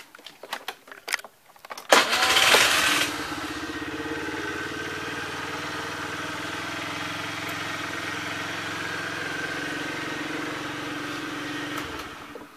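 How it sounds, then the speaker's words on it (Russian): After a few clicks and a brief burst as it starts, a Honda Dio AF-62 scooter engine idles close by, with a steady, quiet, even putter. "Двигатель работает приятно, тихо. Сейчас вам продемонстрирую."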